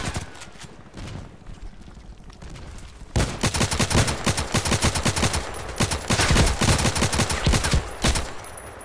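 Gunfire in the Contract Wars shooter game, starting with scattered shots and then breaking into rapid automatic bursts that grow louder and denser, sharp repeated cracks over a noisy background.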